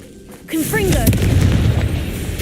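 A Confringo blasting spell erupts in Hogwarts Legacy as a loud, booming burst with a gunfire-like crack, followed by sustained rumbling debris and combat noise, with a shouted voice overlapping the start.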